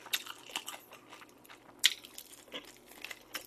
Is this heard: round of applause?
no